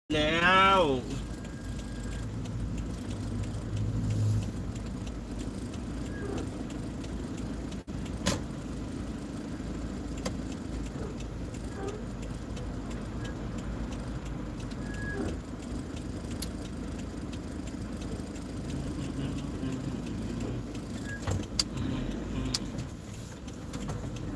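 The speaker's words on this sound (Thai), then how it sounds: "รถติดแล้วรถติด" A car engine starts with a brief loud burst and then settles into a steady, low idle that continues under occasional talk and small clicks.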